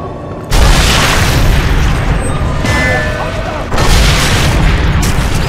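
Gunfire in the video game Sniper Elite 3 co-op, with two heavy booming shots each followed by a long rumbling decay, loud and close, over faint background game noise.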